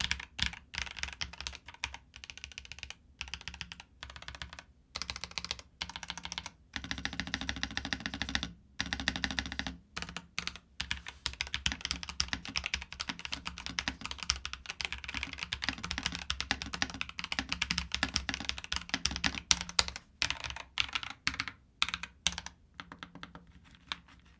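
Rapid typing on a Corsair K65 Plus Wireless mechanical keyboard with pre-lubed Corsair red switches, dense bursts of soft clacky keystrokes with brief pauses between runs, close and steady, no voices.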